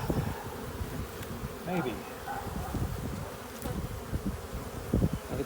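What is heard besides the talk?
honey bees buzzing during hive inspection, drones on frame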